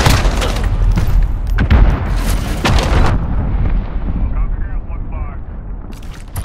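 A cruise missile explosion in Call of Duty: Modern Warfare, a loud rumbling boom with crackling debris that rolls on for several seconds, then tails off under lingering low rumble.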